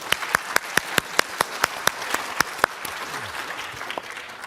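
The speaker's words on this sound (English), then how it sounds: "let's give this great panel an extra applause" Sparse, separate claps ring out at a Summer Davos panel session in Tianjin. About a dozen sharp hand claps land at a fairly regular pace, then give way to a softer patter and quiet murmur.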